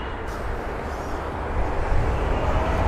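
A British Airways Boeing 777-200ER departing Heathrow produces a distant, broad jet rumble that swells slightly toward the end.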